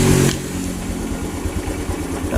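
A Honda Revo motorcycle engine with a weak charging system idles steadily and close by, its low putter running evenly after a brief louder burst at the start.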